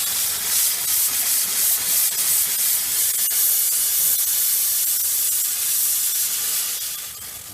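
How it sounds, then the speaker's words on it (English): Steam cleaner hose blowing out a continuous loud, close hiss of steam, steady broadband rush for about seven seconds before easing slightly at the end, with no talking. "So here is going to be the steam."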